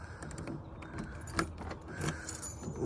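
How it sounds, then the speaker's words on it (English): Truck keys dropped, giving a quiet metallic jingle and rattle with a few small clinks spread over a couple of seconds. "Oh shit, drop the keys."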